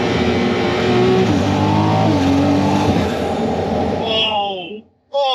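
A Ferrari F80 revs hard in a tunnel, a loud, sustained roaring engine note with rising and falling pitch and turbo whine, ending in a sharp drop and short turbo whoosh.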